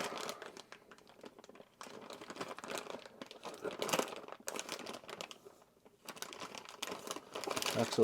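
Plastic packaging around RC rock crawler kit parts crinkles and rustles in bursts as it is handled and opened, fairly quiet and close, with short pauses between handfuls.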